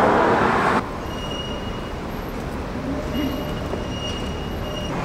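A tram rumbles steadily past, its wheels giving off thin, high squealing tones over a low, continuous roar.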